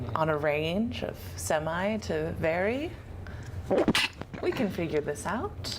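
A single sharp sneeze bursts out partway through lively conversation among several people, standing out briefly above the overlapping voices.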